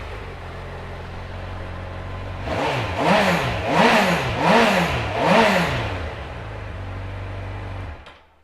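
A 2016 Honda CB1000R ABS motorcycle with standard exhaust idles, then blips its engine four times in quick rhythmic revs before settling back to idle and cutting off, loud and close.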